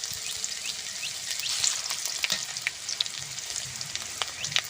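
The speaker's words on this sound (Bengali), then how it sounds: "ফোড়নে দেবো পাঁচফোড়ন, শুকনো লঙ্কা, তেজপাতা" Whole spices, including panch phoron, dried red chillies and bay leaves, sizzle and crackle in hot oil, with a dense hiss and scattered sharp pops throughout and no voices.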